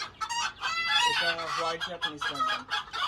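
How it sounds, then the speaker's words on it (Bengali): Chickens cluck loudly and continuously at a fancy chicken farm with Silky and bantam breeds, several birds calling close by in overlapping bursts of clucks and crowing. "দেখেন সিল্কি মুরগি রয়েছে এখানে"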